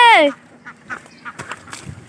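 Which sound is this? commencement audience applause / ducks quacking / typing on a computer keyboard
ducks quacking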